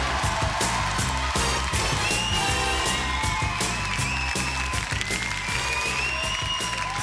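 A television studio audience breaks into applause for a guest's entrance, dense clapping mixed with a few whoops and a bright musical fanfare playing beneath it.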